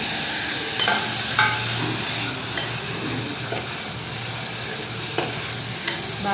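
Tomatoes and onions frying in a pan: a loud, constant sizzle up close, with repeated scraping and clinking as the mix is stirred.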